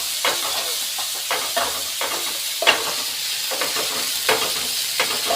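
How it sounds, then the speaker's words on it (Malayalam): Prawns sizzle and crackle in hot coconut oil as they are stirred in a pan, a steady frying hiss broken by repeated scraping stir strokes, close and alone without talk. "വെളിച്ചെണ്ണ ചൂടായിട്ടുണ്ട്. ഇനി ചെമ്മീൻ എളുപ്പത്തോട്ട് ഇടുന്നു. ഇളക്കി കൊടുക്കാം."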